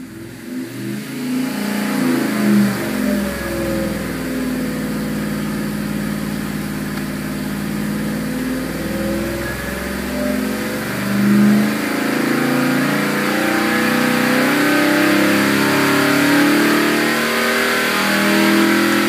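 An EFI 455 Big Block Oldsmobile engine on a college dyno roars steadily at high revs and holds a loud, sustained pull through the whole stretch, close and alone.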